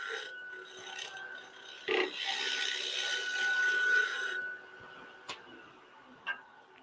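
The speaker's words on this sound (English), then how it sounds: "So it's just a scraping cut." A scraping cut on a wood lathe against turned wood makes a sustained rasping hiss with a faint steady whine, then the tool lifts away, leaving a quieter hum broken by a couple of sharp ticks.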